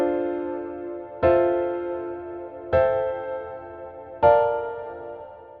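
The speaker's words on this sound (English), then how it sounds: "I've got a pretty flat sounding chord progression that sounds like this." Plain seventh-chord progression played in FL Studio, three sustained chords struck in turn about a second and a half apart, each decaying smoothly into the next, with nothing else heard.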